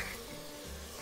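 Onion and garlic sizzling in a pan while being stirred, a soft, faint steady hiss with low stirring rumbles, brief and close, with no one speaking.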